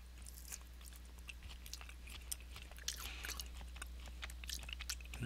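Close, soft chewing of a dried cranberry from a President's Choice trail mix, a steady run of quiet moist bites and small crunches over about five seconds, heard alone with a low constant hum beneath and no talking.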